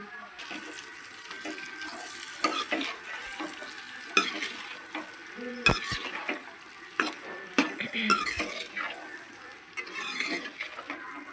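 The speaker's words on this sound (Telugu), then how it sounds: "దొండకాయలు పోపు గింజలను మరిగేంత వరకు బాగా కలుపుకోవాలండి" Ivy gourd pieces are stirred in hot oil with tempering seeds, giving a soft continuous sizzle broken by repeated scraping and clattering strokes of a spoon against the pan.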